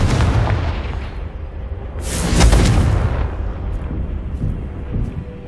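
Confringo fire-blast spell in Hogwarts Legacy bursts with a heavy, booming explosion that swells loud around the midpoint over a dense rumbling roar, then trails off into a continuing low crackle.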